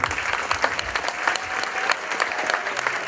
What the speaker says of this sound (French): attendez un applaudissement